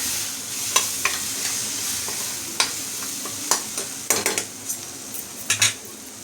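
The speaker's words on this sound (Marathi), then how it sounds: "त्यामध्ये मी आता शेंगदाणे घालते. शेंगदाणे सुद्धा चांगले फिरवून घ्यायचे" Peanuts are stirred in a pan for a taro leaf curry, and a utensil scrapes and clinks against the metal in irregular sharp taps over a soft background sizzle. Close and fairly loud, with no talking.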